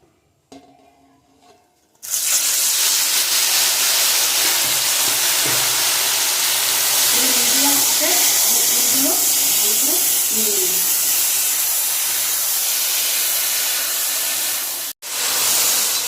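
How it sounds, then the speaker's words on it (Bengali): Drained jujube berries hit hot oil with a sudden loud sizzle that stays strong and steady as they are stirred, with a few light scraping knocks partway through, before the hiss briefly cuts out near the end. "কুলগুলো ছাঁকনিতে খুব ভালো করে জল ঝরিয়ে দিয়েছি, আর তেলে নেড়ে নেড়ে বাকি জলটা শুকিয়ে নেব"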